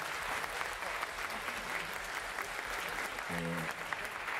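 Applause for a jazz singer at a swing jazz party fills the room as a steady wash of clapping, with a brief tonal instrument or voice note near the end.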